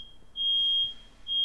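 Fire alarm beeping in a room, two loud shrill steady beeps with a short gap between them, standing out over a quiet background with no one talking.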